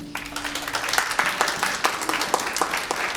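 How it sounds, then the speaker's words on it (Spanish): Church congregation clapping during a worship service, a short burst of scattered hand claps with distinct individual strikes, moderately loud and close, after a brief low tone fades at the start. "Un aplauso a Jesucristo."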